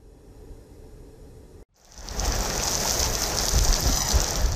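Heavy storm rain pours down in a dense, steady roar that swells loud after a brief silent gap, with no voices over it.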